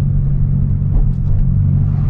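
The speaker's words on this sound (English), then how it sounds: "It's a lifted Miata." A lifted Mazda Miata rolls past close by, its engine a loud, steady low rumble with a brief swell midway and no one talking over it.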